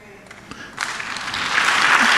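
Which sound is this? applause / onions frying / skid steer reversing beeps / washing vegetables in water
applause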